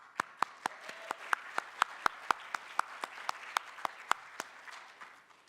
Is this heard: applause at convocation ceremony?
yes